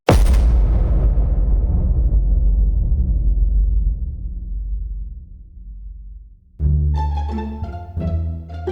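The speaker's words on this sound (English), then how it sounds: "then there was that explosion" A huge explosion bursts at once and leaves a long, deep rumble that slowly fades over about six seconds, then loud music cuts in sharply after it.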